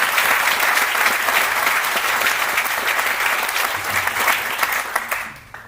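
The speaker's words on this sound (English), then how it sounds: "Another round of applause for all of them" Sustained audience applause for trustees and guests at a leadership awards celebration, loud and dense from the start, then tapering off near the end.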